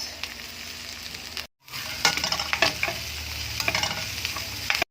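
Carrots, baby corn, Baguio beans and cabbage frying in a pan for Ilocano-style pansit guisado, a loud continuous sizzle with close stirring scrapes, a brief cut near the start.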